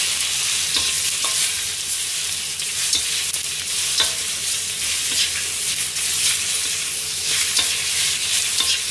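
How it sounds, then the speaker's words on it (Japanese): Onions sauté in a frying pan for a home-style stir-fry, giving a dense, continuous sizzle and crackle at close range with no talking. "ちょっと玉ねぎがソテーかかってきましたね"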